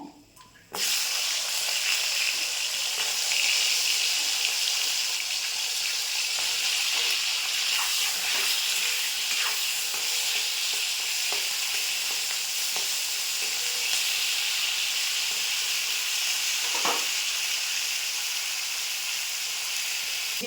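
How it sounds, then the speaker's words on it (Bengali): Flat beans fry in oil in a pan, giving a steady, close hiss and sizzle that starts abruptly after a brief quiet moment and holds for about twenty seconds, with a few faint clicks and no talking. "এই তেলেটি আগে সিমগুলো ভেজে নেবো"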